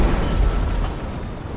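An explosion from a breach, a loud deep boom with rumbling low-end that decays quickly over about a second and a half.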